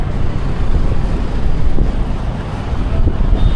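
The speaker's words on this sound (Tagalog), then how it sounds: "Lakas ng hangin dito, sir." Strong wind buffets the microphone in a constant loud rumble outdoors near a fountain, with a faint distant hum of traffic underneath.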